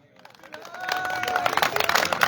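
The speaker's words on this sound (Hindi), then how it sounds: "बहुत मुबारकबाद, जोरदार तालियां होनी चाहिए" Applause rises for the best bowler at a cricket series awards gathering, starting faint and building into dense clapping from a crowd, with voices mixed in.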